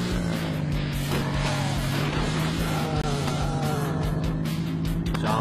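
A police car revving and accelerating in a zombie-smashing driving game, with a steady engine drone and scattered impacts and skids running throughout, loud and continuous with no talking.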